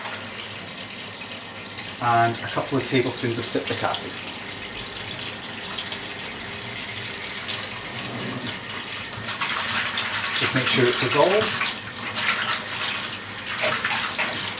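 Warm water runs steadily from a tap into a sink for soaking a hank of undyed wool, a continuous close gushing splash that swells louder partway through, with someone talking over it.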